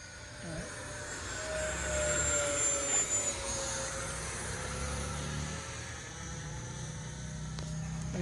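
Freewing L-39 Albatross 80mm or E-Flite F-16 70mm RC model jet whines steadily in flight with a rising and falling pitch, holding a moderate, fairly distant drone throughout.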